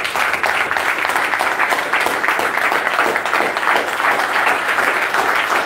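A church congregation applauding, steady dense clapping from many hands that fills the room without a break.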